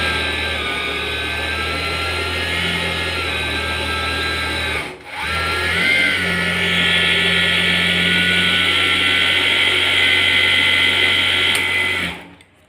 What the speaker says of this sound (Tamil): இந்த பாபினுக்கு எந்த அளவுக்கு தேவையோ அந்த த்ரெட்டை சுற்றி முடித்ததுமே இந்த லிவர் வந்து தானாகவே ரிலீஸ் ஆகிடும்